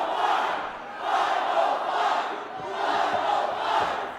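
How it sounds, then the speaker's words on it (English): A wrestling crowd in Albuquerque chanting in unison at a Juggalo Championship Wrestling show, a loud rhythmic two-beat chant that swells and repeats about three times, filling the arena. "Crowd chanting"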